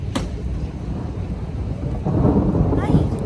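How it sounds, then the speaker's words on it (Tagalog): Low rumbling thunder rolls steadily over light rain, swelling louder in the last second with a deeper, fuller roar. "Oh, kita nyo, kumukulog na."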